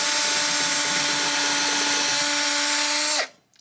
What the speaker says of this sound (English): back the bit out and go in a time or two and get that rubber out